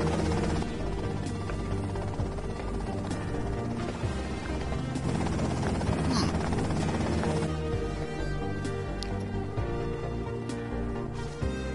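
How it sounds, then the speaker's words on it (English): A helicopter in the video game Grand Theft Auto: Vice City gives a continuous loud rotor and engine drone throughout, with a few clanks and crashes over it. "Okay, that's them in the chopper."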